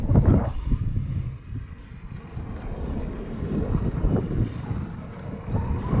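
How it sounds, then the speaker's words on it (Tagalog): Strong wind buffets the microphone in continuous loud gusts while riding along roads in Kuwait, a low rumbling roar that rises and falls without pause. "Mahangin ngayon, mahangin."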